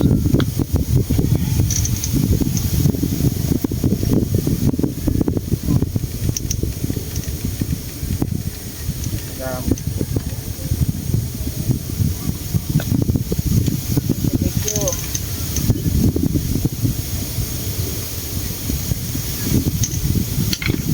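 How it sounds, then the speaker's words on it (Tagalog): Strong wind at a seaside spot with rough waves roars steadily as continuous buffeting hiss across the microphone for the whole stretch, with faint voices barely audible beneath it. "Napakahangin. Napakahangin."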